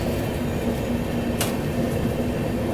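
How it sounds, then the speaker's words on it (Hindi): Sampoorna Kranti Express (12394) pulling out of New Delhi railway station, a steady loud rumble of rolling rail cars with a brief hiss midway, continuous and close throughout. "गाड़ी अपनी निकल चुकी है न्यू दिल्ली रेलवे स्टेशन से"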